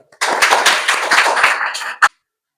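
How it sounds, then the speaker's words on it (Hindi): A classroom of students breaks into a burst of applause lasting nearly two seconds, loud and close, then finishes on one sharp final clap before silence. "ताली बजाओ एक बार।"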